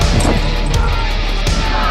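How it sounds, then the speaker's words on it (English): Loud, close crashes and thuds of cars being smashed during a street riot in the UK, several sharp impacts over a dense roar of crowd noise. "They're smashing up the people's cars."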